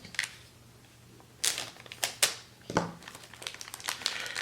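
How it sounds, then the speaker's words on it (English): Sealed plastic packaging is torn open and crinkled, with several sharp crackling bursts and rustles at irregular moments against a quiet background. "almost seems a shame to tear open this nicely sealed plastic"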